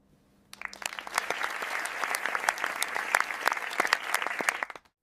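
Applause from a school hall audience breaks out for a Class 4 girl walking to the stage to give a speech, starting abruptly after a quiet moment, swelling into dense clapping with sharp individual claps, then stopping cleanly.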